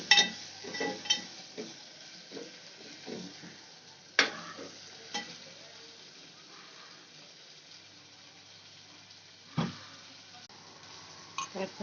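Drumstick pods (moringa) with turmeric and spice masala sautéed in a pan on low heat, soft frying hiss with sharp intermittent clacks and scrapes of a stirring spoon, fairly quiet between strokes.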